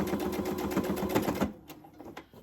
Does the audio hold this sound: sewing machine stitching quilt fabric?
yes